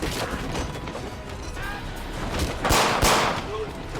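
Gunfire during a gang brawl in an interactive story game, with a few sharp bangs and crashes standing out from busy game noise, loudest near the end.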